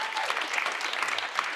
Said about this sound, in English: Can I please have a round of applause for Rob and Rani?